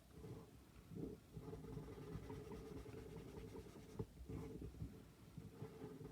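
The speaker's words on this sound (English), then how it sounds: "I'm going to just gently, in little circles, spread that pencil line around." A pencil softly scratches and rubs in small circles on paper, smudging drawn lines into shading, a faint, continuous, close-up scrubbing with slight rhythmic swells.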